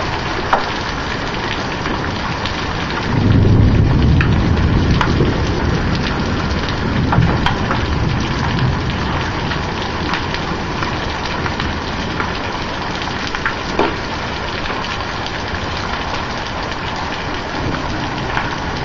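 A spring hailstorm with heavy rain: a dense, loud, steady hiss of rain and hail hitting surfaces close by, with a deep rumble of thunder swelling early on and occasional sharper impacts.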